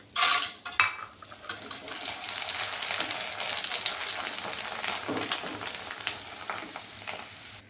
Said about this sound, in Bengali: একটু কালারিং পাঁপড়ও ভেজে দেবো এটার মধ্যে।